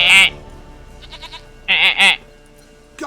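Goat bleating in The Witcher 3: Wild Hunt, a short near bleat followed by a fainter quavering one and then a loud pair of bleats, each standing alone with no talk over them.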